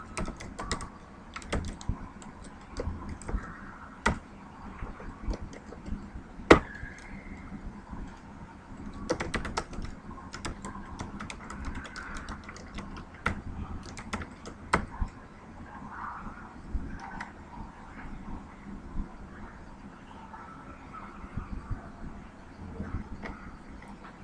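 Steady typing on a computer keyboard while writing code, with rapid irregular key clicks and occasional sharper louder strokes, close and continuous with no speech.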